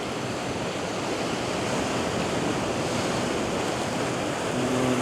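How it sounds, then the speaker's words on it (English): Surf at a beach at sunrise rushes in a continuous, loud wash of white water, with no distinct single crash standing out and no voices. "A decent wave coming through now."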